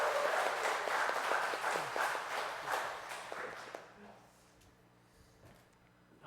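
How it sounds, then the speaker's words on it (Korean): A church congregation at a Wednesday prayer service claps and cheers to welcome a guest pastor, loud dense applause that fades out over several seconds, with a few scattered footsteps and some talk underneath. "큰 박수 함성"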